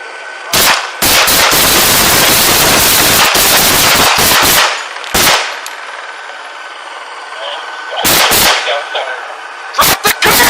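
Gunfire erupts during a police shooting incident: dense, very loud close bursts of rapid shots, then scattered single cracks, with shouting voices in between.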